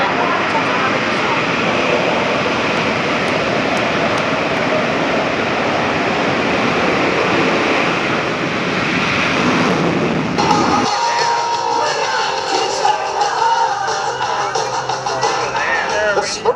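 Blue Angels jets roar loudly at the Chippewa Valley Air Show, a steady broadband rush that cuts off sharply partway through into a thinner, fluctuating hiss, with announcer talk likely mixed in.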